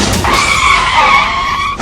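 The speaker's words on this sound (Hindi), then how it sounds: "कार ड्राइवर ने अचानक ब्रेक लगाया, जिसकी वजह से कार बेकाबू हो गई" A car skids hard under sudden braking on a highway, a loud sustained tire screech lasting nearly two seconds before cutting off abruptly, close and alone with no talk.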